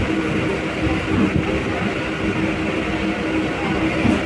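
A Kolkata Chakra Rail electric train runs along the Dum Dum Junction to Majherhat line, giving a steady, close, broadband rumble and rattle with a low drone underneath and no one speaking.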